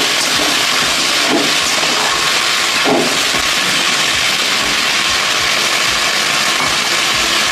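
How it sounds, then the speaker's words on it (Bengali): Okra frying with potatoes and a little tomato in oil in a wok, a loud, steady hiss of sizzling that fills the whole stretch, with a couple of brief clatters from stirring and no talk. "এবার আমি ভেন্ডিগুলোকে ভেজে নেব,"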